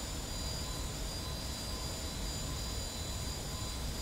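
An old jet engine roars steadily during a runway landing, a loud, constant broadband rush with a faint high whine throughout.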